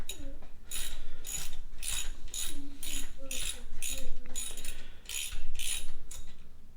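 A ratchet wrench loosens bolts on a Honda XR100R motorcycle under repair, clicking in a fast, steady rhythm of short bursts at close range.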